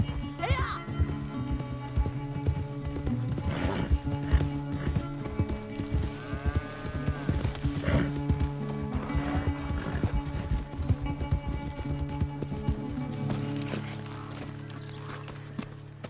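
Horses galloping in a race in Red Dead Redemption 2, fast rhythmic hoofbeats with a clear whinny partway through, under a steady musical score, with voices talking intermittently and the galloping fading toward the end.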